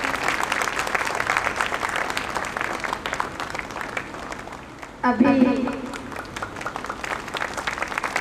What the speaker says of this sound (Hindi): बबली मैम के लिए भी सभी जोरदार तालियां बजाएंगे।